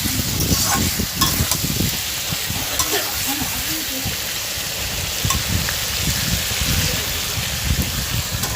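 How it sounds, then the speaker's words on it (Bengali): A spatula stirs ridge gourd and potato in a pan with spice paste, a loud continuous sizzle with steady scraping strokes throughout, close up. "দিয়ে ভালো করে আমি খুন্তি দিয়ে নাড়াচাড়া করে নেব"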